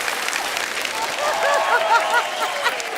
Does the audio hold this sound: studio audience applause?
yes